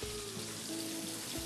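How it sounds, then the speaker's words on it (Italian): A pot of water boils steadily for homemade herb gnocchi, giving a continuous soft bubbling hiss with a faint tonal hum beneath, close and low in level, no talk over it. "Allora, sta bollendo"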